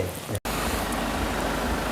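Rain falls steadily in a continuous broadband hiss, close and even, with a brief cut near the start and no voices.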